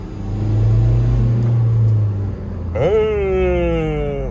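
A diesel car engine idles with a low, heavy rumble, then revs sharply as the turbo spools, pitch rising in a strong whine before settling, close and loud with no talk.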